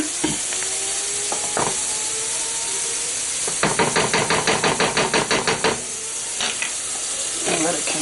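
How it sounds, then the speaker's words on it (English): A wooden spoon scrapes and stirs beef patties in a sizzling pan for Salisbury steak. Scattered knocks are followed by a quick run of rhythmic scraping strokes over steady frying hiss, and faint talk may be present. "scrape the bottom of the pan, stir it all up"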